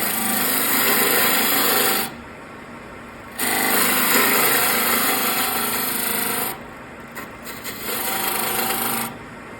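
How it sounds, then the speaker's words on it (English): A 1-inch skew chisel trues up the ends of a small bud vase blank on a wood lathe, giving loud, close scraping cuts in three bursts separated by brief pauses. "with our standard 1-inch skew, let's go ahead and true up the ends"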